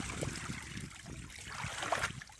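Water trickling and dripping off a soaked anorak outdoors in icy conditions, a soft continuous patter and dribble heard close, with no talk over it.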